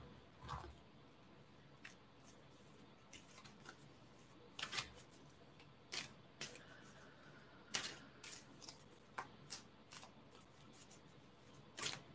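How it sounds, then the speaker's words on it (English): Animal oracle cards shuffled by hand in a quiet room, with repeated soft riffling bursts and crisp flicks at irregular intervals over a faint background hiss. "I'm already going to use this energy and pull some cards."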